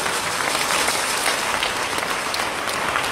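Congregation applauding in a church, steady sustained clapping from many hands filling the space at an even level throughout, with no break or talk over it.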